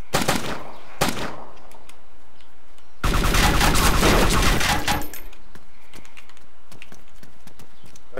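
Gunfire in the video game DayZ with an AK-101 rifle: a couple of sharp single shots, then a loud, sustained burst of rapid automatic fire lasting about two seconds, followed by quieter background noise.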